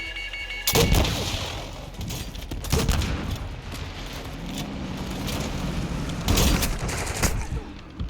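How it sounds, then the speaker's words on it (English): Grenade launcher blasts and gunfire in Call of Duty Modern Warfare 2, with loud explosive bursts and rattling shots recurring over a rumbling vehicle and battle background, close and heavy. "the grenade launcher is still shooting us in the ass"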